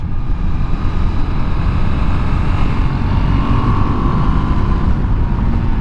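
A KTM 390 Adventure motorcycle on Kenda Trakmaster DTR tires pulls out of corners on wet roads in the rain, its engine a steady close drone under constant wind and spray rush with no clear pauses.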